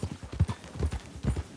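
Horse hooves clip-clopping at a brisk, steady trot in the video game Red Dead 2, close and distinct with irregular paired beats.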